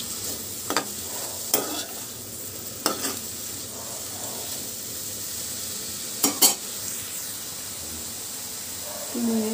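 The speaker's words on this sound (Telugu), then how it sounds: "2 మినిట్స్ ఆయిల్లో వేగనిద్దామండి." Ridge gourd fries in hot oil for a chutney, giving a steady soft sizzle with several sharp stirring scrapes of a utensil against the pan.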